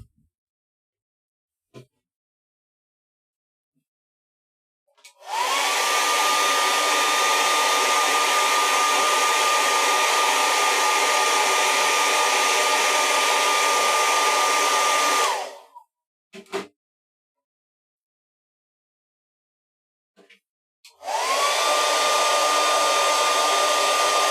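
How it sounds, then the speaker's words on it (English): A hair dryer blows with a steady, loud whooshing whine for about ten seconds, stops, then starts again after a few short clicks. "You hit it with a hairdryer."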